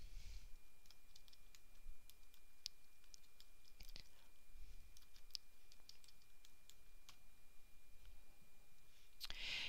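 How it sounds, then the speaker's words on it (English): Search words are typed on a computer keyboard as scattered, light key clicks in short irregular bursts, very faint and distant with a quiet background hum. "So I'm going to type in the main words here."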